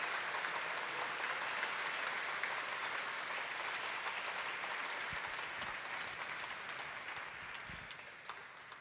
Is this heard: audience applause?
yes